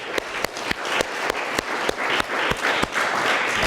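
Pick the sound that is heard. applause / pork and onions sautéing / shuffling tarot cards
applause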